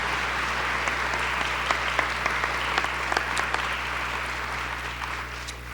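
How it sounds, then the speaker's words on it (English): Audience applause for a police color guard at a swearing-in and promotions ceremony, a steady broad clapping with a few sharper near claps, over a constant low electrical hum. "Let's give our color guard a round of applause."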